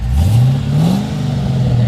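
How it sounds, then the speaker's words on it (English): A 1966 Chevrolet El Camino, lowered, revs its engine through dual exhaust, a loud, close rumble that rises in pitch, falls back, then climbs again, with no voices over it. "Got nice dual exhaust all the way out the back. Got a little rumble to it."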